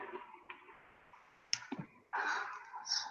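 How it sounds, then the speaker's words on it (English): Typing on a computer keyboard, a few sparse, sharp key clicks close by over a quiet room, followed by a brief burst of louder rustling noise. "I was typing in the chat."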